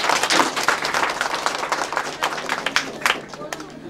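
Wedding guests at a Nepali Christian ceremony clap together in a dense, steady burst of applause that continues throughout and thins slightly toward the end.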